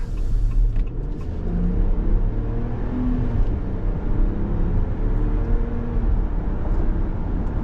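A 2026 Ram 1500 Laramie 4x4 pickup truck with the high-output Hurricane engine cruising on the road, a steady low engine and road rumble filling the cabin without letup and no voices.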